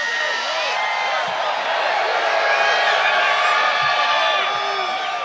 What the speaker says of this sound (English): listening to Bernie Sanders and that exuberant crowd behind him in Brooklyn, New York